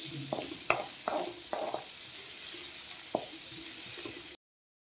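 Onions for a coconut-free mango curry sautéing in a pan: a soft steady sizzle broken by several sharp spatula scrapes and taps, with a brief silence at the end.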